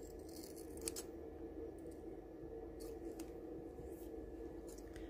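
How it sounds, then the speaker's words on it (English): Scissors trimming a printed paper craft piece for a Hook a Duck game prize, a faint steady snipping and paper rustle in quiet surroundings with no voice. "just grab your scissors and then just trim that off"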